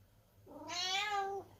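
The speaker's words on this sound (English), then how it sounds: "Cat is meowing. Loudly." A single loud, drawn-out meow from a house cat, rising then holding before cutting off, close to the listener against a quiet indoor background.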